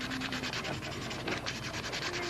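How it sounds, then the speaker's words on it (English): Fine 1200-grit sandpaper rubbing over a small model base plate detail, a quiet steady scratching with quick back-and-forth strokes, close and soft. "Get to the hard part, detailing these out with some 6 or 1200 sandpaper."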